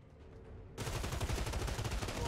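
Submachine gun fire in the Outriders demo opens abruptly into a loud, continuous rapid burst of shots, close and unbroken to the end.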